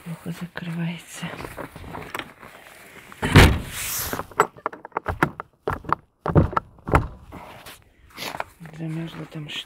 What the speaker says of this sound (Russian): Эта дверь плохо закрывается.